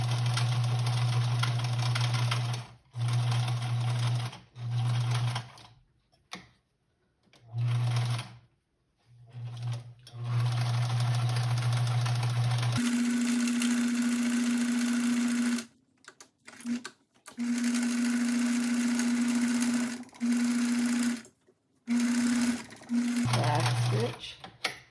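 A sewing machine stitches fabric for an Easter bunny, running in loud, steady bursts of rapid mechanical whirring separated by short pauses and one longer stop as it works around the corners.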